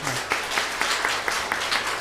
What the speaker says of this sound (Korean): 우리 박수로 감사의 마음 표현하겠습니다